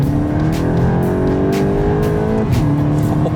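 Tuned VW Golf 8 GTI with a RaceChip GTS Black module, about 310 horsepower, accelerating hard on the Autobahn. Steady, loud engine drone rises in pitch through the gears, with a brief dip at a shift near the end.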